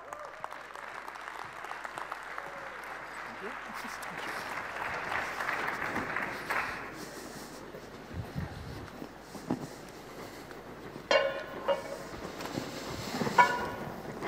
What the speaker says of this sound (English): Please give our panelists a huge round of applause.